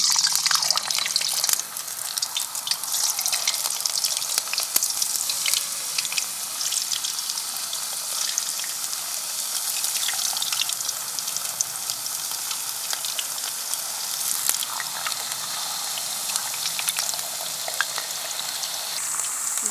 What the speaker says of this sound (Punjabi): ਆਪਣਾ ਤੇਲ ਗਰਮ ਹੋ ਗਿਆ ਆਪਾਂ ਚਿਪਸ ਪਾਵਾਂਗੇ ਹੁਣ